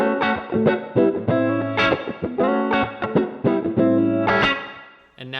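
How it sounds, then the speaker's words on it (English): An electric guitar runs through an Xotic wah pedal with the Q set all the way down, giving a dark, distorted tone. Rhythmic chord stabs come loud and close, each cutting off sharply before the next, then fade out at the end. "this is what it sounds like with the Q all the way down."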